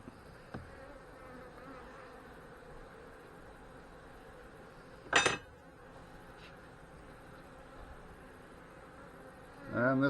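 Honey bees buzz in a steady, even drone at an open hive being checked for swarm cells, with a couple of brief louder bursts and knocks partway through and near the end.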